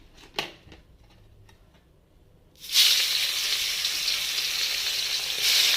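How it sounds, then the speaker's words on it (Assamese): Borali fish frying in hot oil in a wok over a gas stove, a loud steady sizzle that bursts in partway through and holds to the end, after a few faint clinks. "এতিয়া লাহেকৈ মাছখিনি ফ্ৰাই কৰি ল'ম"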